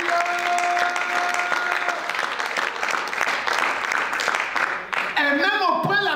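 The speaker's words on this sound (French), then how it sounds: "Tu peux acclamer le Seigneur." Church congregation applauding and cheering in praise during a sermon, a steady dense wash of clapping with sustained tones from music underneath, ending with a brief voice rising over the crowd.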